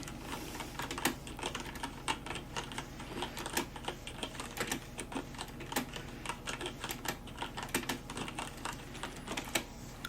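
Fingers type steadily on a computer keyboard during library book cataloguing, each key press a crisp, close tap in an irregular but continuous run of clicks, with no talking.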